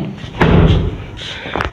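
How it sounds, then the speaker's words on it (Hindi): A car door shuts with a dull, heavy thud, followed by a second softer knock a moment later, close by inside a newly bought car. "यार, ये बंद क्यों नहीं हो रहा, कौन सा दरवाज़ा खुले।"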